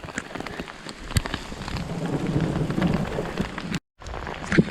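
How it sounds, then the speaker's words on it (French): Hail drums steadily on the ground and gear during a thunderstorm high in the Pyrenees at about 1830 m on the GR10 trail, a dense close patter with sharper impacts, cut by a brief silence near the end. "Il grêle là."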